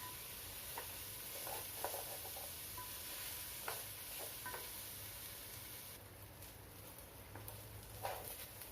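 Rice frying in a pan for pomfret biryani: a steady, quiet sizzle with occasional scraping stirs and light clicks, and no voices.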